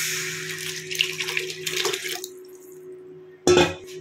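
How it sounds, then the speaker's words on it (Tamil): Tamarind water poured into a cooking pan while making rasam, a brief splashing pour followed by a quieter sizzle and a short loud splash near the end, close by with no talking. "புளித்தண்ணியை எடுத்து அதில் ஊற்றிடுவோம்."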